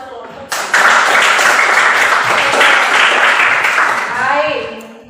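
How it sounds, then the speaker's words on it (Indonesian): Children in a classroom clap for a group of classmates, a dense burst of applause that starts abruptly, holds steady for several seconds, then tapers off, with a voice speaking over the end. "Tepuk tangan buat kelompok 2."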